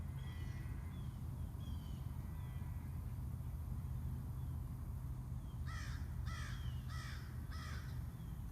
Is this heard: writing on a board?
no